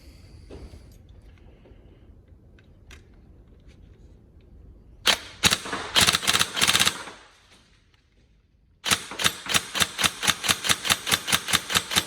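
A Tokyo Marui 416 Delta next-gen electric airsoft rifle with a Warhead motor fires at a range. A sharp burst of rapid shots comes first, then a quiet gap, then a long run of evenly spaced, crisp snapping shots close by.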